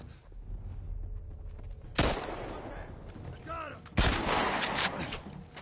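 Gunfire in The Last of Us Part 1, with sharp, loud shots cracking out around the two- and four-second marks over a rumbling game soundscape, one quieter burst in between, and a voice talking underneath.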